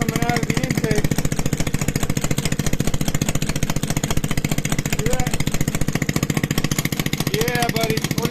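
Powerhorse Predator generator running rough, a close, loud, rapid, uneven chugging engine pulse that continues throughout while someone speaks over it.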